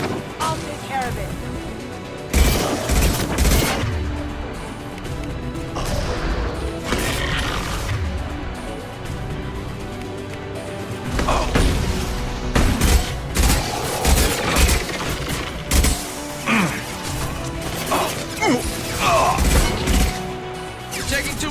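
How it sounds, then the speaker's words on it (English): Heavy gunfire in a combat scene, with repeated bursts and booms clustered at intervals over a continuous loud backdrop, while voices talk over the shooting. "You're taking too much fire!"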